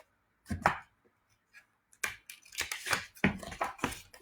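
Scissors cutting through watercolor paper give short crisp snips, a couple of isolated cuts and then a quicker run of close, dry slicing strokes.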